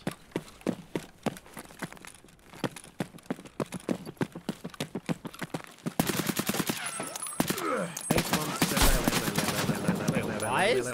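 An AK-103 rifle in Escape From Tarkov fires steady, evenly spaced shots, then a louder, denser stretch of rapid automatic fire, with someone speaking over it.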